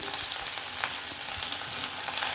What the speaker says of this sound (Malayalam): മുളക് ഉള്ളി ഇട്ട് കൊടുക്കാം ഇനി ഒന്ന് ഇളക്കി കൊടുക്കാം